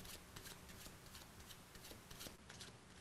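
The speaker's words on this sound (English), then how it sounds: "So I'm going to shuffle through the cards" A deck of playing cards is shuffled by a magician during a virtual show, a fast run of crisp riffling flicks close by, steady and quiet with no talking.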